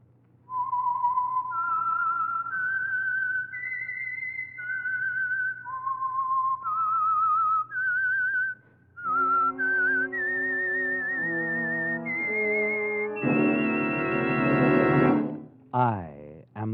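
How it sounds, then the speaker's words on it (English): Whistled theme for the Signal Oil radio program The Whistler, a lone melodic whistle in clear sustained notes, then joined by an orchestral passage that swells and ends in a sharp sliding flourish. "the signal to listen for is this whistle that identifies the Signal Oil program"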